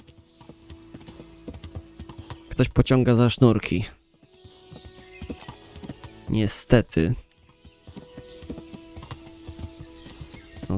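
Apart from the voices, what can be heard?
horse hooves clip-clopping while riding, from the video game Kingdom Come: Deliverance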